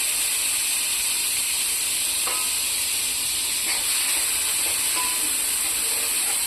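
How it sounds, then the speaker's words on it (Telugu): Chopped tomatoes sizzle loudly in a very hot, scorched pot with ghee and a little water, a dense continuous hiss close up, with a few faint stirring clicks and no talk. "బాగా కాలిందండి గిన్నె, అందుకే బాగా వేడిగానే సౌండ్ వస్తుంది"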